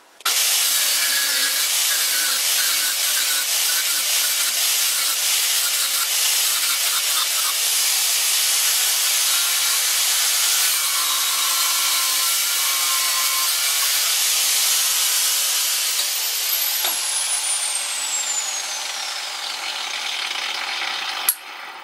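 A fly cutter with a long high-speed steel tool bit machining steel, giving a steady loud hissing, grinding cut that runs almost without a break and then spins down near the end.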